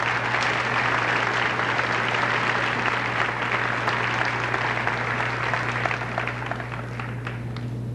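Sustained audience applause at a junior high graduation ceremony honoring students with perfect attendance, steady dense clapping throughout with a low steady hum beneath, gradually thinning near the end.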